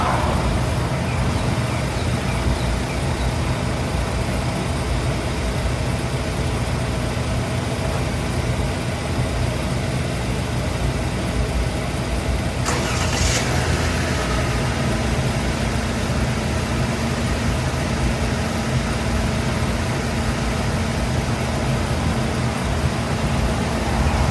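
Several vehicles, including a van, start up after sitting unused for days and settle into a steady idle, a continuous low engine rumble that fills the whole stretch with no talking.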